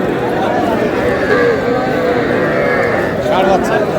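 Young bull calves at a Cumilla cattle market give a long, loud, drawn-out moo that rises and falls, with a crowd murmuring and people talking around them.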